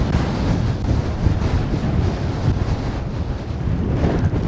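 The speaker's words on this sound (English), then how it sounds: "It's incredibly windy," Strong, gusty wind roars across the microphone on a 509-metre fell summit during a circular walk, a loud, continuous rush with no voices.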